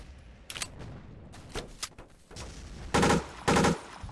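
Bursts of gunfire from a level 3 machine gun in the Empires Source mod on the emp_canyon map, scattered single cracks followed by two loud, sustained bursts near the end.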